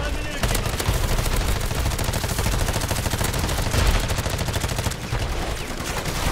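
Rapid submachine-gun fire in a Modern Warfare Zombies video game, with sustained bursts of closely spaced shots running nearly throughout and a player's voice occasionally heard underneath.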